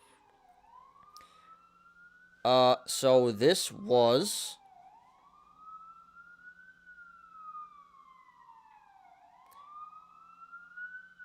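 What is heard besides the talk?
emergency vehicle sirens outside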